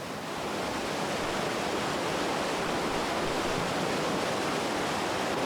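Whitewater rapids rush beneath a bridge on the Fish River during a canoe marathon, a dense, steady roar of churning water that stays loud and unbroken throughout with no voices.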